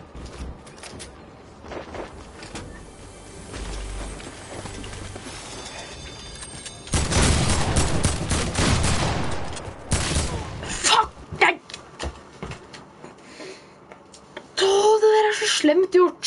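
Bursts of AK rifle gunfire in a survival shooter game, a loud dense volley in the middle and another sharp burst near the end, with quieter game noise and talk around it.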